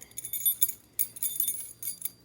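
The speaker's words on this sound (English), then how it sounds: "It's my keys. It's my keys for work" A bunch of work keys, gate keys among them, jangles and clinks in several short bursts with brief pauses between, close and fairly quiet, with no talking.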